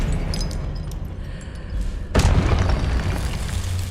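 A spell being cast in the video game Hogwarts Legacy, a loud booming burst that hits sharply partway through over a dense rumbling game background.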